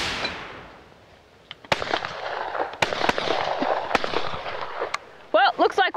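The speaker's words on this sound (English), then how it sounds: "looks like we both shoot guns pretty well here" Guns are fired outdoors as a series of sharp, irregular cracks, some loud and some fainter, with a voice heard near the end.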